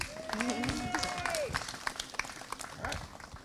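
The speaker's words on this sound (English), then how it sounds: "Let's give these boys a round of applause." Wedding guests at a ceremony give a round of applause, a sustained mix of clapping, cheers and crowd voices, with one voice rising in a whoop near the start.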